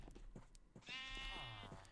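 A single drawn-out Minecraft sheep bleat, close and clear, follows a few soft clicks and rustles.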